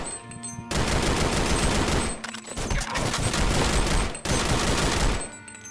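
Sustained bursts of rapid automatic gunfire in the shooter game Leaden Sky, loud and dense, with two long volleys broken by brief pauses, no talk over it.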